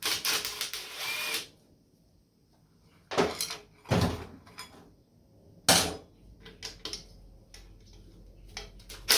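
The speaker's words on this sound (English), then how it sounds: "I'm using an impact on the back side" An impact wrench on the back side of a '64 Impala's tank strap bolts fires in several short, loud rattling bursts separated by quiet pauses, close up with light clicks and handling noises between.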